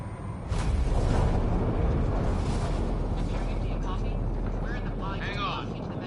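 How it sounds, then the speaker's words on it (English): A spaceship enters a planet's atmosphere in Mass Effect Andromeda, with a loud, continuous deep rumble and roar. Voices talk and brief high electronic chirps sound over it. "Initiating atmospheric entry."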